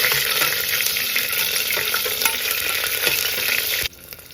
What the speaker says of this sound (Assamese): এইখিনি মছলাটো ভাজি লওঁ।